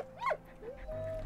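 Dog whimpering in the video game Valiant Hearts: a short high whine followed by softer whimpers, close and fairly quiet with faint game background.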